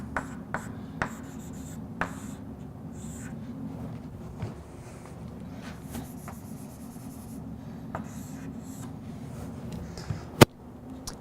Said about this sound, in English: we'll just write it out for 1 through m.